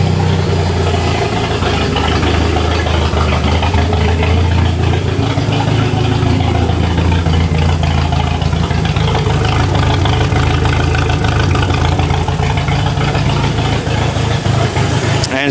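Jeep Comanche engine running steadily at idle, a loud, close, continuous low rumble with no break throughout and no talking.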